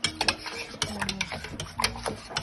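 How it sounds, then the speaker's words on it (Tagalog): A spoon stirs yogurt ingredients in an Instant Pot, producing quick scraping and clinking strokes against the metal in an irregular rhythm, close by. "You just need to stir."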